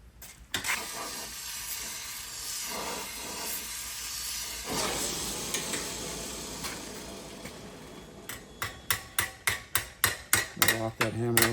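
A hammer forges a hot steel crab sculpture, with sizzling and scraping before a quickening run of sharp metallic blows near the end, loud and close.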